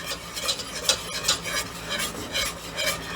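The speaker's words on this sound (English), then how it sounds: "you have to keep stirring it, keep stirring it" A spoon stirs chocolate pie filling of cocoa and cornstarch in a pot, scraping around the edges in steady repeated strokes, close and moderately loud with no talking.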